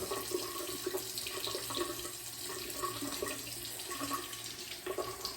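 A tap runs steadily into a sink, water splashing as someone rinses their face with cold water after shaving; a continuous close rush with small splashy variations and no talking.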